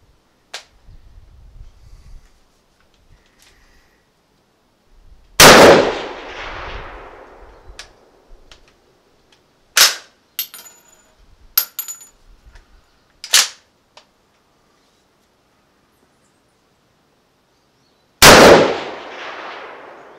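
Steyr M95/30 short rifle firing three loud, sharp shots spaced several seconds apart, each with a long decaying echo, and light bolt and mechanism clicks between them.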